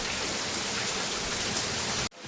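Heavy rain pours down over a village in Chandigadh, Keshod taluka, a loud, dense, even hiss close by that cuts off sharply near the end.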